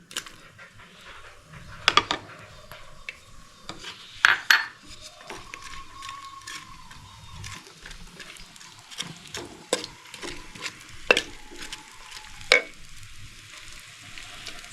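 Onion sautéing in oil in a hot clay pot, a steady close sizzle broken by irregular clatters and scrapes of a spoon stirring against the pot, with no voices.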